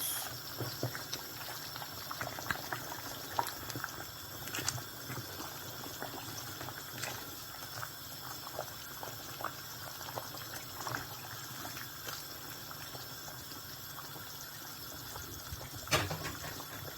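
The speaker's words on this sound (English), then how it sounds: "So let's allow it to boil" A pot of native soup with crayfish and salt boils quietly, giving a faint, continuous bubbling and simmering with occasional small pops, and no voices over it.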